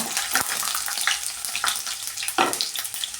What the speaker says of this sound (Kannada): ಈಗ ಒಂದು ಬೆಳ್ಳುಳ್ಳಿನ ಈ ಥರ ಸೇರಿಸ್ಕೊತಾ ಇದ್ದೀನಿ ಇದನ್ನು ಹಾಗೆ ಸೇರಿಸ್ಕೊಳ್ಳೋದು ಕ್ರಶ್ ಮಾಡ್ಕೊಳ್ಳೋಷ್ಟೆಲ್ಲ ಏನೂ ಇಲ್ಲ ಒಂದು ಸ್ವಲ್ಪ ಆಯಿಲಲ್ಲಿ ಫ್ರೈ ಮಾಡ್ಕೊಳ್ಳೋಣ